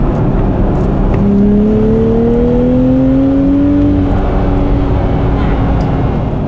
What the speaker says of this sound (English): Let's go for another pull, just see on highway, with some rolling speed, what kind of pull we can get from it